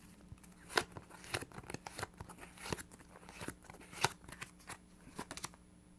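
Tarot cards being shuffled and drawn, heard as quiet, close riffling and crisp card snaps at irregular intervals, with no talking.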